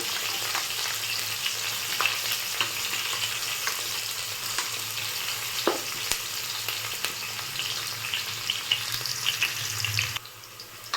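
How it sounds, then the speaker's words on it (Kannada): Sliced onions frying in a pan until golden brown for a methi pulao, a steady bright sizzle with occasional crackles and stirring scrapes throughout, close and continuous. "ಚೆನ್ನಾಗಿ ಗೋಲ್ಡನ್ ಬ್ರೌನ್ ಬರೋವರೆಗೂ ಫ್ರೈ ಮಾಡ್ಕೊಳ್ಳಿ"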